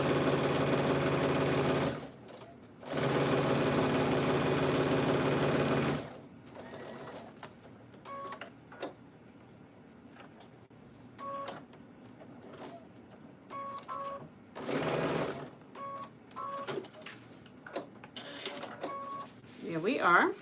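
A home sewing machine stitches quilt fabric in several short bursts of whirring, stopping and restarting, with louder stretches of steady motor drone near the start and brief clicks between runs.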